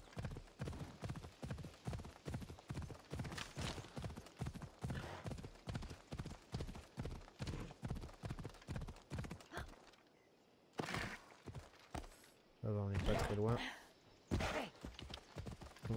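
Horse hooves clip-clop steadily in Assassin's Creed Odyssey, a rapid regular gait lasting about ten seconds, then a pause before a short burst of louder sounds that may include a whinny near the end.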